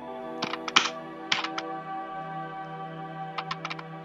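Typing on a computer keyboard sounds as quick clusters of crisp keystrokes, one burst near the start and another near the end, separated by a pause, with no talk.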